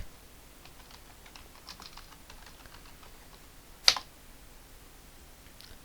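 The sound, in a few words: typing a search for light effect on keyboard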